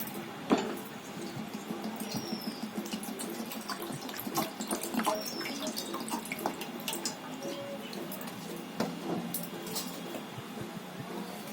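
Water is poured into a cooking pan, a close, continuous trickle and splash with scattered drips and small bursts running steadily for over ten seconds.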